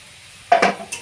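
Potatoes and carrots being stirred in a cooking pan, with a couple of quick scraping clatters of a utensil against the metal after a quiet start, then a softer knock near the end.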